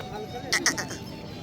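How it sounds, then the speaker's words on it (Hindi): A goat bleats at a crowded livestock market in Dera Ghazi Khan, a couple of short bleats standing out over continuous background chatter and crowd noise. "क्यूट सी बकरी आई है।"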